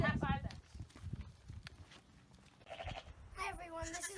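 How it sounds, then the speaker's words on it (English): A newborn lamb bleats in short, high wavering calls at the start and again near the end, close by, with shuffling and hoof-like knocks in between and people talking. "this is a baby lamb that I'm holding"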